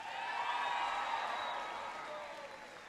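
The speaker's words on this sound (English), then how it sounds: "Give Jorge a big round of applause for his introduction" A crowd at President Obama's speech on homeownership gives a round of applause, with scattered whistles and whoops over the clapping, which tapers off slightly toward the end.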